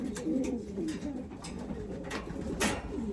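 Pigeons in a loft cooing in soft, repeated low calls close by, with a few brief higher rustles or clicks mixed in.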